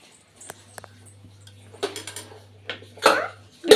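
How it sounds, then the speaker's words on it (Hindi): A baby tugging at a pressure cooker in a kitchen, with scattered metallic knocks and a louder clatter of pots and metal near the end, plus a low steady hum underneath. "ये कुकर को नीचे खींचने की कोशिश कर रही है"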